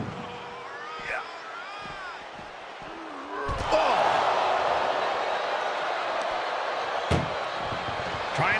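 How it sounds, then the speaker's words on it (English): An ambulance door slams in a WWE wrestling video game: a heavy thud and metallic bang, then a loud crowd roar surges and holds, with a second sharper impact near the end and commentary voices under it. "Trying to at least slam one door shut"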